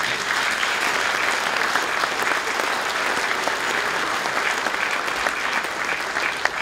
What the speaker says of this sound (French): Je veux bien évidemment parler de M. Marcel Pagnol, que nous allons applaudir et acclamer ici